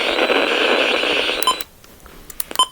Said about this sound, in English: It's really static.